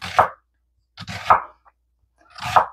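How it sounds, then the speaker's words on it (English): Half an onion chopped for a broccoli salad: three separate knife chops on a cutting board, close and crisp, spaced about a second apart, with silence between them. "So I am probably going to add half this onion"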